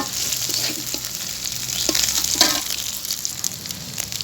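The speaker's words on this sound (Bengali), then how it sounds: "শুটকি ভাজা হয়ে গেছে" Dried fish (shutki) frying in a pan over a lowered flame, a steady close sizzle with intermittent crackles and stirring scrapes.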